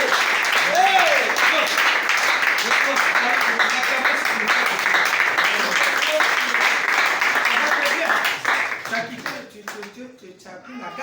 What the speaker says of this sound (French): Acclamez pour la sœur Ati